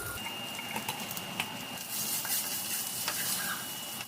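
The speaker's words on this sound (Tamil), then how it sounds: "ஒரு 10 பல்லு பூண்டு கொஞ்சம் சின்னதாக கட் பண்ணி வச்சுருக்கேன். அதை அந்த ஆயிலில் போட்டு நல்லா வதக்கிக்கலாம்." About ten cloves of finely chopped garlic sauté in hot oil for tomato thokku, a soft, steady sizzle close by with faint crackles and light stirring ticks.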